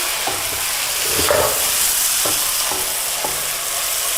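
Sabudana (tapioca pearls) tipped into a hot pan for khichdi, frying with a steady bright sizzle while a utensil scrapes and stirs in several distinct strokes, no talking.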